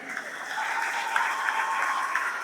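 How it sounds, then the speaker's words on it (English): Dense applause from a crowd at a university event in Chennai, steady and sustained throughout, with a few sharper claps standing out. "A big applause to her parents"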